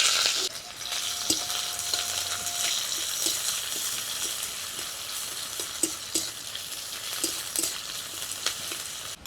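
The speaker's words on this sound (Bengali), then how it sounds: "এবারে ওর মধ্যে দিয়ে দিব পেঁয়াজ কুচি।" Chopped onions go into hot mustard oil with cumin already crackling and fry in a loud, steady sizzle close up, while occasional utensil clicks and stirring scrapes sound over it.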